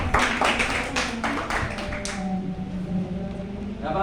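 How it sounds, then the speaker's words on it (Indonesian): Classroom group clapping together for a presentation, a burst of loose claps in the first two seconds that quickly fades into quieter room noise. "Kita akan tepuk tangan."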